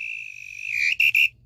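A referee's final whistle in the video game Head Ball 2: a single sustained blast followed by two short sharp toots, loud and clear with faint crowd noise beneath.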